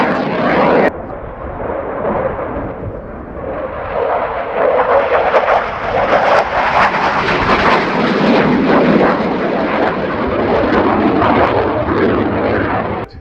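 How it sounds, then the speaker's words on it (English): Swedish Air Force Saab Gripen jet at an airshow display, a loud, continuous broadband roar of engine noise sustained throughout, swelling slightly as it passes. "The canard of the aircraft one by one, constantly braking."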